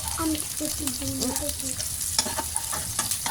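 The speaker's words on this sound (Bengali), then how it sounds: "আমি সুন্দর করে পেঁয়াজ ভেজে নিচ্ছি অনেকগুলো পেঁয়াজ কেটে" Lots of sliced onions fry in a pan in a home kitchen, a continuous crackling sizzle with stirring scrapes, and a voice murmurs briefly near the start.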